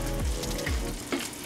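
Shrimp scampi stirred in a hot pan gives a steady close sizzle with a few scraping strokes of a utensil against the pan, no voices over it.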